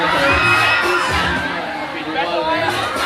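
A crowd cheers and shouts at the Hurricane ride in Dream World, Thailand, a loud continuous mix of whoops, children's shouts and excited voices, with a few thumps underneath.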